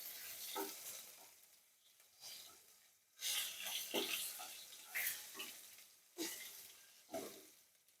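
Tomatoes stirred in a pan with a five-spice tempering, giving soft sizzling and frying bursts punctuated by several louder scraping stirs at irregular intervals, close and moderately quiet.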